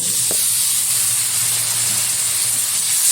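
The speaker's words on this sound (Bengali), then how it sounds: "এখন এর মধ্যে দিয়ে দেবো পেস্ট করে রাখা সর্ষে" Strained mustard paste goes into hot oil with fried tomato for a pointed gourd and prawn curry, raising a continuous, fairly loud sizzle and hiss that holds steady for a few seconds with no talking.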